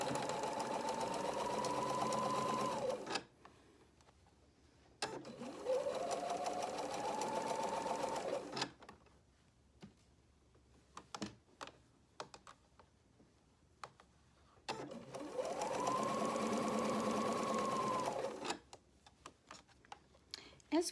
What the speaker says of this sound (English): under my sewing machine and start sewing